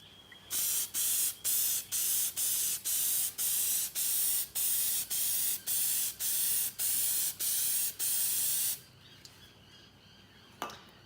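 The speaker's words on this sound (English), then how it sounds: "I previously sprayed that way coming up the filter." Filter oil sprays from an aerosol can onto a washable K&N-style air filter in fifteen short, evenly spaced hissing bursts. The bursts are close and fairly loud, and a quiet pause with a faint click follows.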